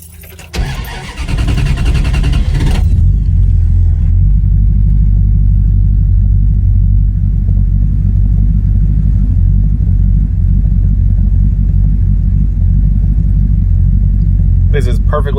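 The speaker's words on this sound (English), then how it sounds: "we're going to start the engine up" A car engine cranks and catches with a sharp burst, then settles into a loud, steady low exhaust rumble at idle after an exhaust drone fix, with a person talking over it.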